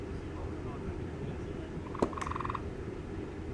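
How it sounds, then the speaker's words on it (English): Frogs near a creek behind a backyard during an evening baseball game broadcast, a brief croaking trill rising out of steady outdoor ambience, faint and somewhat distant. "Hearing the frogs."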